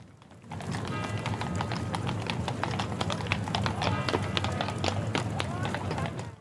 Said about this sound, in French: on écoute le bruit des calèches